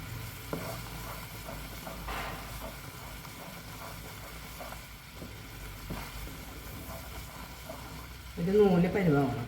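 Thick sugar syrup for black sesame balls being stirred in a pan, a soft sizzling hiss with faint scraping strokes throughout and a brief louder burst near the end.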